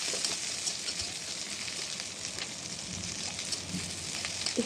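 Halved green chillies fry in hot oil with a soft, steady sizzle and hiss, moderately quiet and continuous, with a few faint crackles.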